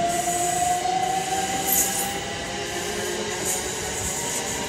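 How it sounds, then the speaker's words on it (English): A C2C passenger train rolls out of Stratford Regional station with a steady loud rumble, a sustained wheel squeal and faint rail clatter, heard close by with no talking. "this is a C2C train in the background"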